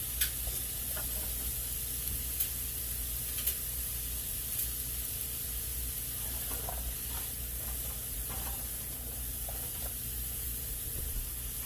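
Apple fritters frying in rendered lard in a pan, a steady close sizzle and hiss that runs evenly throughout with faint bubbling crackles and no talking.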